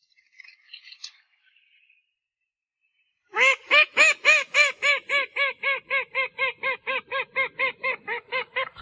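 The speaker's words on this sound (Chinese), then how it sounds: "觉得科尔鸭叫声没什么，不扰民" A call duck quacks loudly and rapidly in a long insistent series of harsh, penetrating calls, close by, after a few seconds of faint rustling and near silence.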